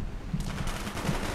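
Rapid bursts of automatic gunfire from a first-person shooter team deathmatch, a dense fusillade of shots filling the moment at moderate loudness with no talk over it.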